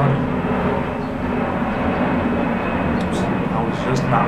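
An airplane drones overhead as a steady, broad low rumble lasting the whole stretch, fairly loud and constant, with faint speech-like sounds over it.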